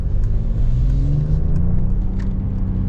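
A 2025 Mercedes G-Wagon accelerating, its engine giving a loud, steady, close rumble with a rising whir that climbs smoothly through the run, with no talking over it.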